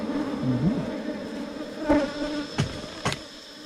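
Ground-nesting bees buzz around their nest in a hole in the ground outdoors, a fairly close, wavering drone with a few sharp knocks and clicks mixed in, no voices.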